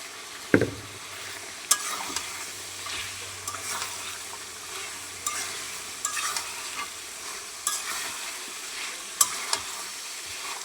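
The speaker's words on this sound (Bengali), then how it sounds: "এখন মুরগির মাংসটা কষাই নিব" Chicken pieces stirred and sautéed with spices in a pan for a papaya chicken curry, giving a steady sizzle with a sharp clatter at the start and repeated scraping stirs throughout, close by with no talk.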